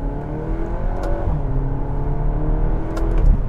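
Cupra Ateca 2.0 TSI SUV with an Akrapovic exhaust accelerating hard on the road, giving a loud, continuous engine and exhaust drone that rises steadily in pitch, heard from inside the car with no talking.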